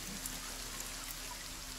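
Steady rain patters continuously in a forest in The Forest VR game, a soft even hiss with no talk over it.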